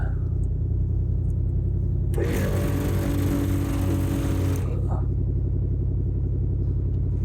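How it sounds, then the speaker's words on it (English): An on-board air compressor mounted on an off-road truck kicks on with a harsh, buzzing whir over the idling truck engine, runs for about two and a half seconds and then cuts out, leaving the engine's steady rumble. "let's put this fuse back in and fire this compressor up"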